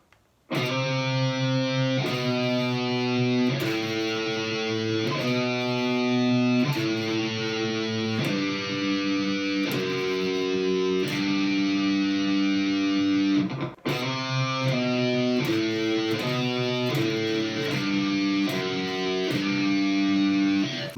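Heavily distorted electric guitar chugs through a slow metal riff between chords, sustained power chords, loud and continuous, with a brief break before it repeats.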